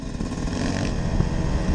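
A small Yamaha YZ125 motocross motorcycle engine buzzing steadily at a constant pitch, close and fairly loud, with no talking.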